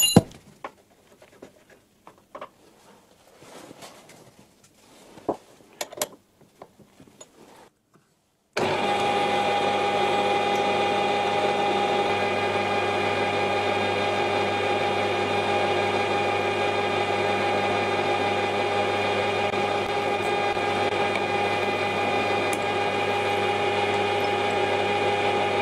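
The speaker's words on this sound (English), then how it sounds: "A 4mm pilot drill." Drilling into wood with a 4mm pilot drill on a wood lathe begins after light handling noises, then settles into a steady, loud, continuous whirring hum that holds unbroken for over fifteen seconds.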